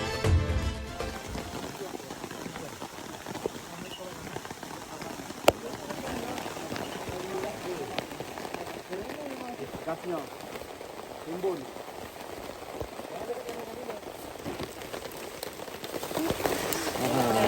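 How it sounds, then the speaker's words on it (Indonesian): Steady rain falls around a mountain forest camp on Gunung Patah, a dense continuous patter on surfaces lasting throughout, with faint voices in the background. "hujan."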